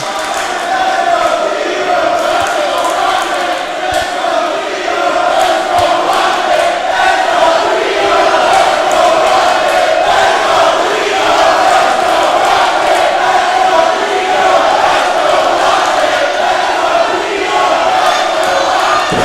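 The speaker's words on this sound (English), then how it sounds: "I think that's a split crowd, Kirby." Wrestling arena crowd at a women's main event match, a dense, steady roar of voices with rhythmic chant-like pulses, loud and continuous throughout with no clear single speaker.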